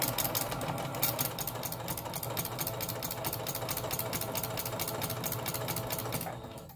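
A sewing machine stitching a quilted bookmark, running in a fast, steady mechanical rattle of rapid needle strokes, close and loud, before it stops at the end.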